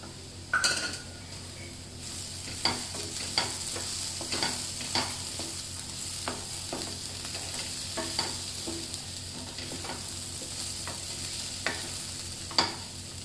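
Dry moong sabzi with green peas stirred in a frying pan: a soft continuous sizzle under repeated sharp clinks and scrapes of a spoon against the pan, close and unhurried, with no voices.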